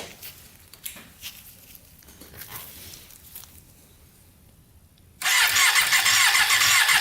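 A Yamaha Banshee engine is cranked over to check plug spark, starting quietly at first and then bursting into a loud, steady high-pitched buzz for the last couple of seconds.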